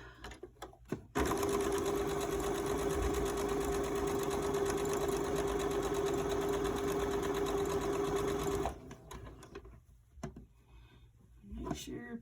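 A sewing machine runs steadily for about seven seconds while stitching along the top edge of a fabric face mask, giving a continuous close whir with a constant hum. It is framed by brief handling noises before and after.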